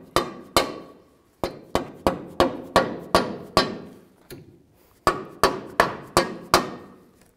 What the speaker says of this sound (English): You can use a hammer to tap it in place.